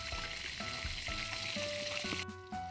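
Milkfish (bangus) with egg fries in a pan, a close steady sizzling hiss with a few light stirring clinks, cutting off abruptly near the end.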